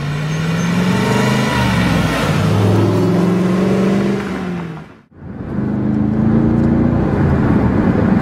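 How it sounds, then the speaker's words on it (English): A Pontiac GTO's pushrod V8 revs hard in a deep rising roar, drops briefly as the gear changes, then rumbles back up after the downshift, loud and close throughout. "Just listen to the downshift."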